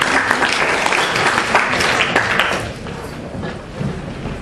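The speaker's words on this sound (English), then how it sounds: "round of applause to everyone for showing up" Crowd applause fills a live event in New York City, a dense steady clatter of many hands that thins slightly toward the end.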